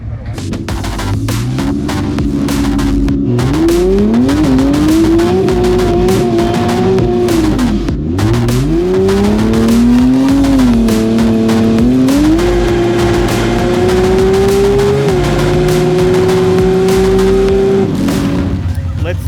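2JZ turbo drag car on Kenda 660 radial tyres at a racing test day, making a loud, close engine that climbs through several gear changes with repeated rises and dips in pitch, against a roaring background.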